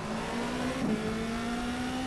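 Formula 2 race car in the rFactor 2 simulator at Malaysia, its engine droning at a steady pitch with a brief rise under throttle, a continuous loud tone held throughout.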